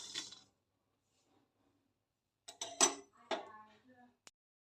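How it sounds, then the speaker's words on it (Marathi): Roasted sesame seeds and peanuts are scraped from a pan into a dish, giving a few short metallic clinks and scrapes separated by a long silence. "हे आता गार करण्यासाठी मी एका डिशमध्ये काढून घेते"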